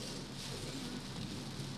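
First rainfall of the season coming down steadily, a soft continuous patter and hiss on surfaces with no break, heard alone.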